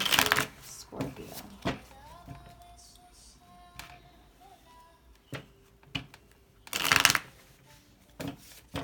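Tarot cards are shuffled in several loud, riffling bursts separated by quieter stretches, with a person talking in between.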